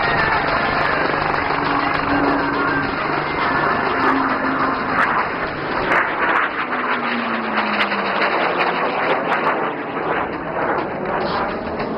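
Jet trainer aircraft flying a loop at the Aero India air show at Yelahanka Air Force Station, a loud, steady engine roar that shifts as power changes, heard against broad outdoor noise.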